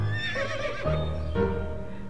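A horse in the To the Moon video game lets out a loud, close whinny that rises and then trails off over about two seconds, heard on its own.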